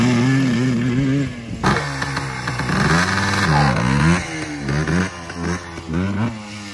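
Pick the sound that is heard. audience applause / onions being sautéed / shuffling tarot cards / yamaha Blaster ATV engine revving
yamaha Blaster ATV engine revving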